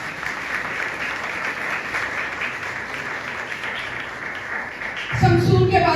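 A church congregation bursts into loud, dense applause that holds steadily for about five seconds, then a voice starts speaking near the end.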